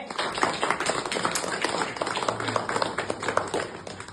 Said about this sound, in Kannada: ಹಾಗೆ ಒಂದು ಜೋರ ಒಂದು ಚಪ್ಪಾಳೆ ಹೊಡಿಲಿ